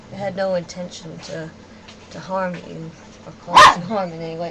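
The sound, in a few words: dog barking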